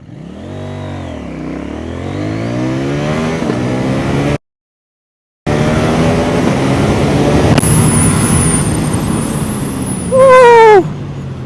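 An 800NK motorcycle accelerating hard through a 0-100 run, its engine note climbing in pitch through several gear changes, loud and close with wind noise and no speech.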